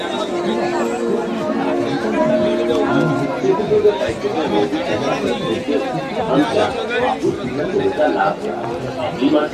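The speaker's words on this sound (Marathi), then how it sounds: "बघू शकता आता गर्दी जशी जशी संध्याकाळ होते तशी गर्दी वाढते" Dense crowd chatter fills the evening Anganewadi fair, a steady loud babble of many voices with no single speaker standing out, continuous throughout.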